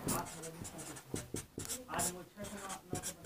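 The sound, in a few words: writing math on paper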